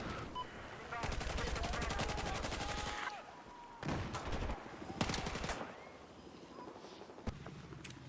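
Bursts of L85A2 rifle fire in Battlefield 4, heard as rapid automatic strings of loud close shots, one long burst then shorter ones with gaps between them.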